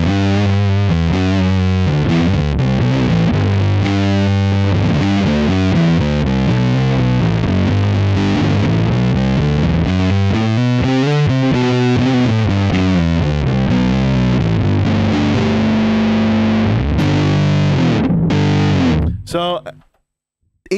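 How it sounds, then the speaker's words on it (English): A bass guitar through a fuzz distortion effect plays a fuzzy, heavily distorted riff with thick, buzzing low notes, loud and continuous before cutting off abruptly at the end. "Finally, distortion or fuzz."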